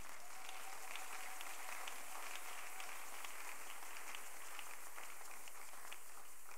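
A church congregation applauds to acclaim the Lord during an evening consecration retreat session, a steady wash of many hands clapping at moderate distance, sustained and even for several seconds without a break.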